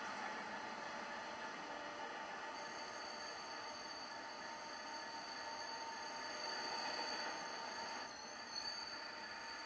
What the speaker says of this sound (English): Wow, the train is amazing.